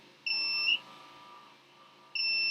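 Two short, high-pitched electronic beeps from a Cusimax ice cream maker sound a couple of seconds apart over a faint background hum.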